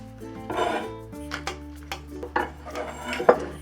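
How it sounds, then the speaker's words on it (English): A knife slices green onion into quarter sections on a cutting board. Several distinct chopping knocks fall in an irregular rhythm and sound close, over a steady low background hum, with no talking. "And we'll slice the green onion. I'm going to cut this into quarter sections."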